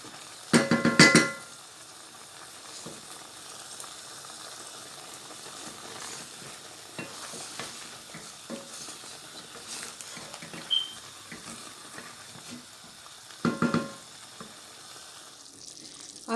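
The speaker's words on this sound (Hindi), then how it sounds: "अब इसको 2-3 मिनट के लिए ये डाल के ना अच्छे से भूनूंगी।" Chicken sizzles in hot oil with ginger, garlic and green chilies, a soft continuous crackle in a home kitchen broken by a few loud clattering stirs near the start and again later.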